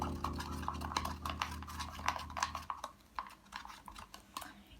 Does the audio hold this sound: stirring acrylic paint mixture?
yes